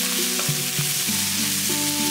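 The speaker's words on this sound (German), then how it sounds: "dass man die ganzen Zutaten wirklich anschwitzt und den Geschmack rausholt" Ingredients sautéing in a pan for a risotto-style dish in a home kitchen, a steady close sizzle and fry with light stirring scrapes and a few utensil clicks, no voices.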